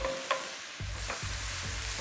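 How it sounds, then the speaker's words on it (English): King prawns and noodles stir-fry in very hot oil, a steady loud sizzle with a few scraping stirs of the pan and no voices. "we're frying this at such a high temperature"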